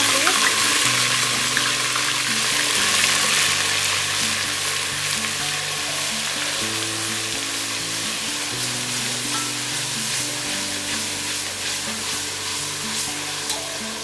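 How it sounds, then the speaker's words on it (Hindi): Garlic-ginger paste for chicken korma frying in hot oil, a loud continuous sizzle close by under a sustained steady tone, with occasional stirring noise. "डाल देते हैं अपना लहसुन अदरक का पेस्ट।"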